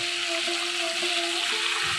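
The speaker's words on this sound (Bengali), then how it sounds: "বাদবাকি যে বেগুনগুলো ভাজতে আছে সেগুলো আমি দিয়ে দিলাম" Eggplant slices frying in hot oil, a steady bright sizzle with faint popping, continuous and close, with no voices.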